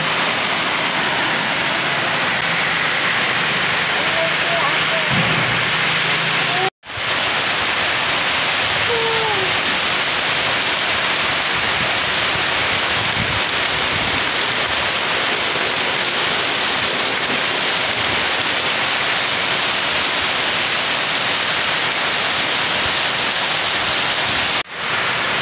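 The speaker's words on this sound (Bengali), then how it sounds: "বাইরে বেরিয়ে দেখছি কী ভীষণ আর কি মুসলধারে বৃষ্টি।" Torrential monsoon downpour of heavy rain, a loud steady wash of broadband hiss that runs continuously with only brief dropouts, no speech.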